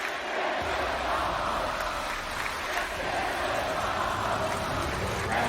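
Wrestling pay-per-view crowd chanting "this is awesome" after a match, a dense, steady roar of many voices in a large arena, with no commentary over it.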